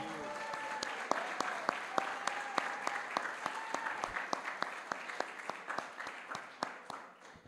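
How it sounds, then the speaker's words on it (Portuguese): A church congregation claps in steady rhythm through a worship service, sharp hand strikes repeating evenly and close, with sustained tones underneath at the start and the clapping thinning slightly toward the end. "aplauda ao Senhor pela sua palavra"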